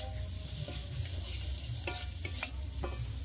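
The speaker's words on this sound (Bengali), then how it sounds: "ম্যাগি মশলাটা ভালো করে মিশিয়ে নেব।" Maggi masala being stirred and sautéed in a hot pan, a continuous oily sizzle broken by several sharp scrapes and clinks of a spatula against the metal.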